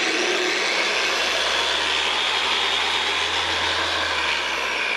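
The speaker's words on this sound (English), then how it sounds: "So he gave me a whole polishing machine" A car polishing machine for paint correction on a BMW runs with a constant, loud, close-up whirring roar that holds steady without a break.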